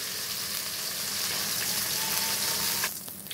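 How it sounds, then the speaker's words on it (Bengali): Fish sizzling in hot oil in a pan, a steady dense frying hiss that holds loud and even before dropping off abruptly near the end. "এখন বাকি মাছগুলো ভেজে নিব"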